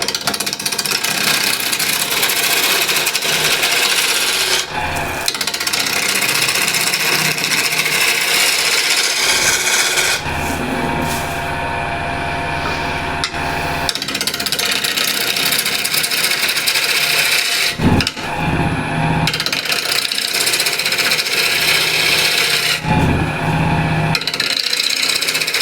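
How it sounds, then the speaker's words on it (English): A bowl gouge scrapes and cuts a wooden apple spinning on a lathe, giving a steady, close, rasping hiss broken by short pauses as the tool lifts off. "So just use the ball gouge."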